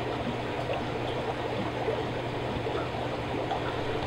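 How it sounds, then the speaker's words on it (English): Water trickles steadily through a small gauge siphon hose drawn from a 2.5 gallon aquarium of fish fry, a soft continuous dribbling stream, close and even throughout. "I can use a small gauge siphon hose in order to suck out all the debris and detritus"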